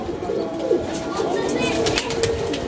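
Pigeons coo in a loft amid a busy, steady background, with people's voices blending into the mix throughout.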